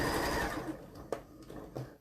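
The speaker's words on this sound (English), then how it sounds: "I'm just going to stitch across the top so I can show you what happens when you do that." A sewing machine stitches across the top of a concealed zip, whirring steadily and close for about a second, then slowing into a few separate mechanical clunks as it stops.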